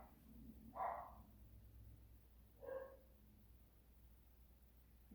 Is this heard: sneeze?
no